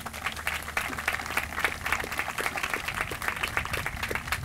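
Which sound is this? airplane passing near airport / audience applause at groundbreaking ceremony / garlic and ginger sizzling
audience applause at groundbreaking ceremony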